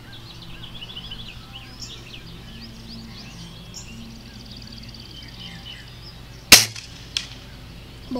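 A .177 air rifle fires a pellet at a 100-yard target outdoors, one sharp crack standing out against steady birdsong and a low background hum, followed by a fainter second report a moment later.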